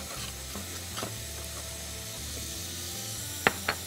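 Onion sautéing in a pan with salt, pepper and spices for a creamy spinach and chicken soup, giving a soft steady sizzle with occasional stirring scrapes and two sharp clinks near the end.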